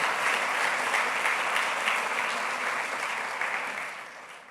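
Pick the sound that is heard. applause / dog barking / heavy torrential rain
applause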